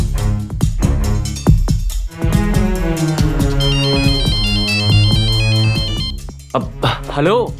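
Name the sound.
phone ringtone of outgoing call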